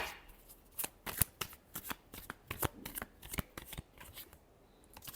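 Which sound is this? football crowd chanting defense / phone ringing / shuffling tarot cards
shuffling tarot cards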